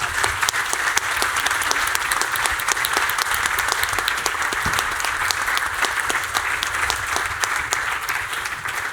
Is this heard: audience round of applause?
yes